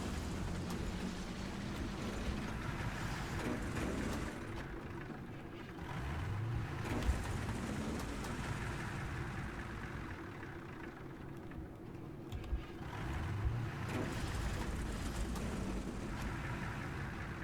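Tank engine idling in War Thunder, a steady rumbling drone with faint mechanical clatter and a few louder surges, continuous throughout with no voices.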